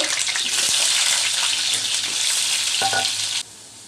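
Cut potato pieces frying in hot oil for a golden chicken curry, a loud steady sizzle that runs without pause before cutting off abruptly near the end.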